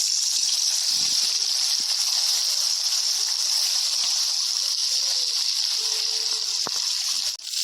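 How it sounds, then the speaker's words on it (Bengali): Fish sizzling in mustard oil in a wok, a steady loud hiss and crackle that holds unbroken throughout, with a few small clinks near the end. "কড়াইতে মাছগুলো দিয়ে দেবো।"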